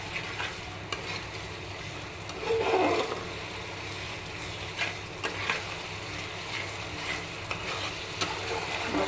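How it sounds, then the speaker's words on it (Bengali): Masala paste for a prawn curry fries in a pan with a steady close sizzle and bursts of stirring scrapes, one louder stir around the middle, no voices. "এবার আমি সুন্দর করে মশলাটাকে ভালোভাবে কষিয়ে নেব"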